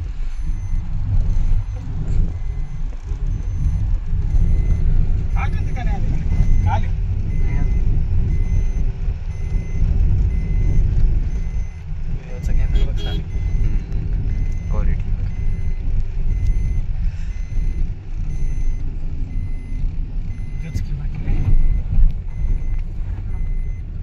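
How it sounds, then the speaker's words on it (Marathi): A four-wheeler car is driven on the road toward a village fair in Rahuri. Its engine and road rumble sound steady and close throughout, with a few brief beeps and clatters mixed in. "तर आज आम्ही चाललो होतो जत्रेला 4 व्हीलरमध्ये। विशू ड्रायव्हिंग करीत होता।"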